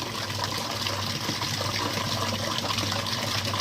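Water gushes steadily into a brand-new water cooler with a new filter, a continuous loud rushing and splashing stream with no voices over it.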